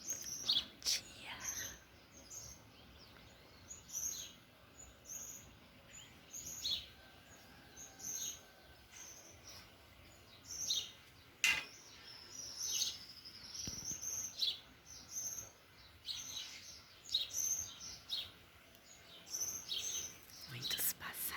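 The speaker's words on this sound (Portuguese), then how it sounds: "Muitos passarinhos." Many small birds chirp and sing in a backyard at dawn, a busy chorus of overlapping high tweets and calls, some near and some farther off, with quiet background noise and a faint voice now and then.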